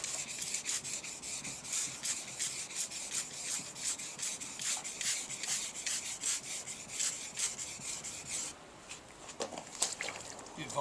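Wet sanding a scratched car panel by hand with 1200-grit wet and dry paper, a steady rhythmic hiss of rubbing strokes close up, briefly stopping near the end before resuming.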